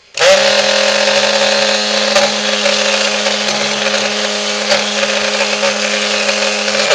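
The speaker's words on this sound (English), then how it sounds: "So you got to make sure that the head of your stick blender is in the oil." A stick blender runs steadily in a lye soap mixture of oil and lye, giving a loud, even motor whine that holds for the whole clip.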